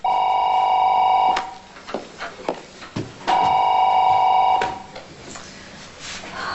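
Telephone ringing indoors, two loud electronic trilling rings separated by a pause, close and clear, with some quieter movement and handling noise in between and after.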